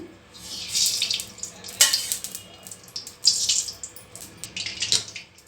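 Hissing, crackling sizzle from a hot frying pan as a couple of spoons of oil go in, rising and fading in several bursts, close by with no talking.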